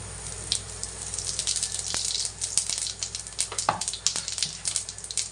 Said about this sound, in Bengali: তেলটা আবার একটু গরম হতে দিয়েছি সামান্য তেল দিয়ে গরম হয়ে গেছে এবার দিয়ে দেবো একটু জিরে